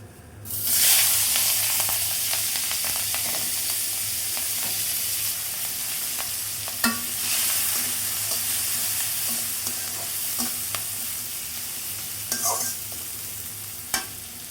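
Steady, loud sizzling of chili and onion frying in hot oil in a pan, continuing throughout with occasional stirring clatter and scrapes.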